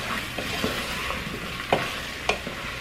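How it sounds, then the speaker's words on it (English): Minced garlic is stirred and cooked in a pot: a soft, steady sizzle with a few sharp spoon scrapes and taps against the pot. "Then 4 minced garlic cloves. And I'm going to stir and cook it for about 3"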